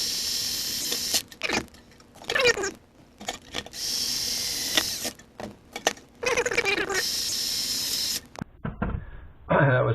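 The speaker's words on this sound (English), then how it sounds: "So I'm going to push this on and put screws through here the hard way." Screws driven through metal parts while assembling a Case IH 7250 tin bench, with several bursts of power-driver whirring separated by pauses and handling clatter.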